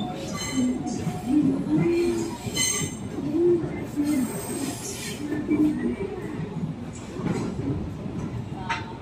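An Indonesian KRL commuter train rolls steadily along the rails, its rumbling wheels joined by recurring high tonal squeals, loud and close throughout.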